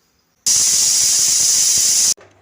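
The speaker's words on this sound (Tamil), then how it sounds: "குக்கர் மூடி போட்டு மூடி அது ஒரு 2 விசில் விட்டு நிறுத்திக்க வேண்டியது தான்" A pressure cooker whistle lets out one loud, steady jet of steam lasting under two seconds before cutting off sharply, while rice cooks with drumstick leaves.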